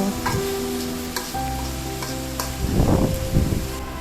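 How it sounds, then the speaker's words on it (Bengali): Potato, eggplant and beans fry in oil while a spatula stirs them, a steady sizzle broken by scraping strokes that swell in bursts near the end, close and fairly loud with no voices. "তেলে কিছুক্ষণ নেড়ে চেড়ে উল্টিয়ে পাল্টিয়ে বেছে নেব"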